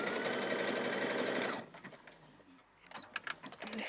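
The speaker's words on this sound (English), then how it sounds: "And I'm going to just sew that on again." A sewing machine runs in a fast, steady whirring burst while sewing on a button, then stops, followed by quieter handling clicks and taps close by.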